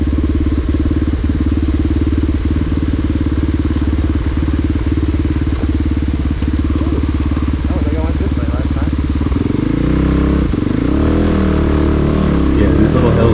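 A Kove 450 Rally motorcycle engine runs steadily on a dirt trail, a loud close buzzing drone that surges and revs near the end, with a rider talking over it.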